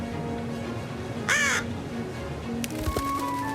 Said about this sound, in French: il y a le corbeau